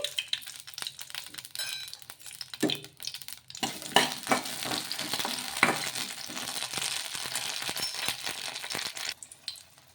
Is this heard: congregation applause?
no